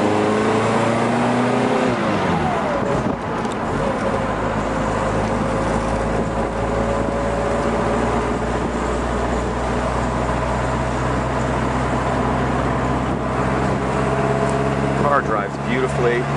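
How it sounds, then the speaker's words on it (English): A 1959 Mercedes-Benz 190SL engine hums and drones steadily from inside the car as it drives, with road and wind noise throughout and a voice talking over it. "A nice day to take a cruise in a 59SL."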